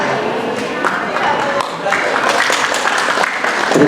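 Audience applause at a 2022 Tahfidz graduation and end-of-year ceremony at SDI Al Azhar school, a steady wash of many hands clapping indoors, with a voice talking over it near the end.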